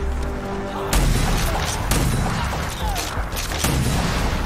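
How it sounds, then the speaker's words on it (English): Fuel tanks explode in the video game Rage 2, loud booming blasts landing near one second and again near three and a half seconds over continuous rumbling gunfire and game noise. "Something blows up beside you."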